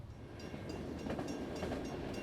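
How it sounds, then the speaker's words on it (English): Freight train rolling along railroad tracks beside a historic lakeside depot theater in Westport, New York, giving a steady low rumble with faint rhythmic clatter, continuous and moderately distant, no voices. "The clickety-clack of the railroad tracks does not disturb working actors at the Depot Theater"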